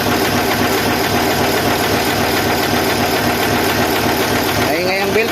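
An overhauled Isuzu 10PE1 diesel engine runs steadily with a rough, knocking beat, loud and close, with a brief clatter near the end.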